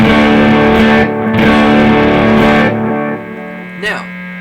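A Squier Classic Vibe 60s Jazzmaster electric guitar played on the neck pickup, with sustained chords strummed through distortion and effects, loud and up close, fading down at the end before a final brief strum.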